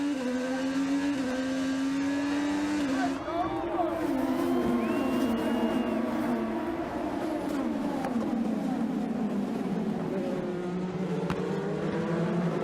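IndyCar race cars roar off the grid at the season-opening start in St. Petersburg, a loud, sustained chorus of high engine whine with rising and falling pitch sweeps and crowd noise underneath.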